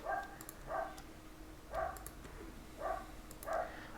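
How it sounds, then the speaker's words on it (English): Dogs bark in short, faint bursts somewhere in the background, five or so spaced barks over a quiet room with no talking. "I'm sorry if you can hear my dogs barking in the background"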